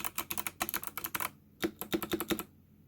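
Fast, close typing on a white HyperX mechanical keyboard with Box Jade switches and double-shot PBT pudding keycaps, giving bursts of sharp clicky keystrokes broken by a short pause.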